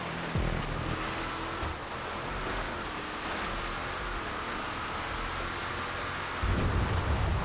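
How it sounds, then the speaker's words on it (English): Heavy thunder rolls through a rainy storm in GTA 5 on a custom off-road race track. It is a loud, steady rumble with a sharper, louder crack near the end, and nobody speaks. "Thunder is so loud in this game."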